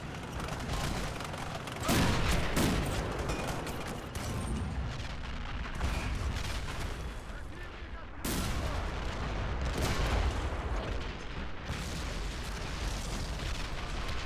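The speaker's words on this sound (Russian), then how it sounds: "Вот так взрывы." Dense, continuous WWII battlefield din in a war video game set at the Battle of Kursk in 1943: explosions, artillery fire and gunfire roll nonstop, with several sharp blasts standing out above the dense roar.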